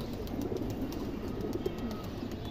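Silver bezi pigeons in a loft murmur with continuous soft, low cooing, several birds overlapping in a steady burbling hum with no talk.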